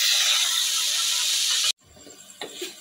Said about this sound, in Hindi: ये देखें जी, मैंने प्याज इसमें डाल लिया है, प्याज को थोड़ा सा हम ब्राउन करते हैं